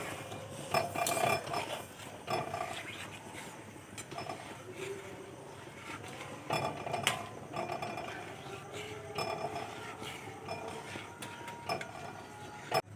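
Dough of flour with a pinch of salt is stirred in a pan, giving scraping clinks and knocks of a utensil against metal at an irregular rhythm, fairly quiet and close, with no talking.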